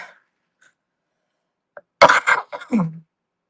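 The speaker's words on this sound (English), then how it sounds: "That was a forced cough to see if I feel better." After near silence and a faint click, a few sharp forced coughs burst out close by in quick succession, ending with a low throaty rasp.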